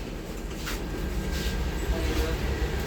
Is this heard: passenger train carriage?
yes